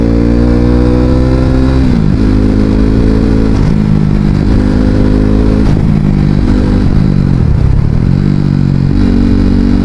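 A loud KTM RC 390 motorcycle engine drones steadily, its pitch dropping and climbing again several times as gears change, close by with no talking.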